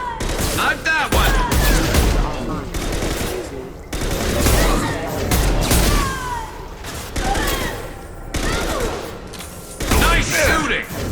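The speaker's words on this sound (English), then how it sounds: "Nice shooting!" Sci-fi combat in Mass Effect 2 on Illium: loud, sustained bursts of rapid automatic fire in several long volleys, with brief lulls between them, under shouts and chatter of combatants.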